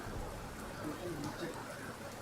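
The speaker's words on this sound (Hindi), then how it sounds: "बरसात अब धीरे धीरे हल्की हो जाती है" Village rain falling at a roadside tea shop, a soft continuous patter that stays faint and even throughout.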